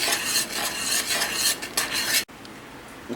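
A spoon scrapes continuously around a pot of strawberries cooking with sugar into jam, a steady rasping stir up close that stops abruptly near the end, with no voices.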